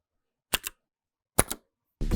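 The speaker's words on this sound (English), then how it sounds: "Listen to the sound of a single key versus a shift key." Two close, crisp keystrokes on a keyboard with DSA Granite keycaps, a single key and then a shift key, each a sharp double snap of press and release, heard alone in silence before a voice starts talking.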